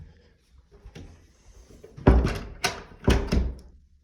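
A door inside an older house is opened and closed, giving a few soft rattles and then three sharp, loud wooden thunks and bumps close by, with no talking.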